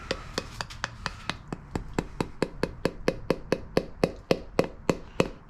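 A rubber mallet tapping a wheel bearing seal into place, giving a long run of evenly spaced dull thuds, roughly three or four per second, close and steady with no talk.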